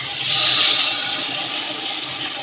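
Water poured into a cooking pot of meat and potatoes with browned onions, a steady rushing splash lasting a couple of seconds, close and fairly loud.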